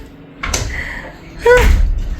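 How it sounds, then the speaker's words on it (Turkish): An indoor door is pushed closed in two quick bursts, a brief scrape and creak followed by a heavier thud as it shuts, fairly loud and near. "Kapıyı mı kapatalım?"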